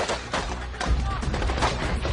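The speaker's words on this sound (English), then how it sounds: "a convoy of Marines comes under heavy fire while driving past Baghdad" Heavy gunfire aimed at a Marine convoy driving past Baghdad University, a dense barrage of sharp cracks and booms over rumbling noise, with voices faintly mixed in.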